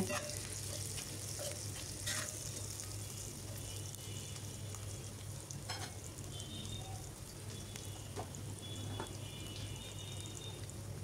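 Onions frying in a pan for egg curry give a steady, soft sizzle throughout, with a low background hum and no talking.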